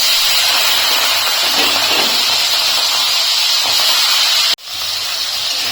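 Prawns frying in hot oil in a kadai, a loud steady sizzling hiss that runs unbroken, cuts out sharply for an instant near the end, then resumes slightly quieter.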